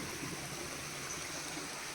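Water wells up and flows steadily in a village stepwell in Himachal, a continuous even rushing wash with no pauses.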